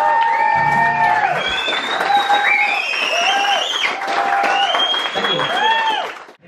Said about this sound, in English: the crowd is unbelievable tonight